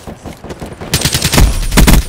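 Bursts of automatic gunfire from the video game Call of Duty: Black Ops 3, loud and close, with rapid rattling volleys growing heavier toward the end over a low game soundscape.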